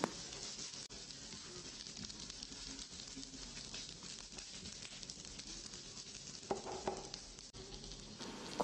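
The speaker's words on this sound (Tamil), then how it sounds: "இது கூடவே மூணு பச்சை மிளகாவையும் உடச்சி போட்டுட்டு அதையும் சேர்த்துட்டு நல்லா வறுத்துக்கணும் நம்ம" Garlic and crushed green chillies frying in a pan, a soft, low-level crackling sizzle with scattered light pops and an occasional scrape of stirring.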